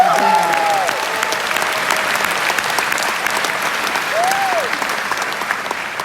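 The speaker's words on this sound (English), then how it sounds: "Give yourselves a huge round of applause." A crowd applauds at a 20th anniversary company event in the UK, steady dense clapping throughout, with faint whoops or voices rising over it.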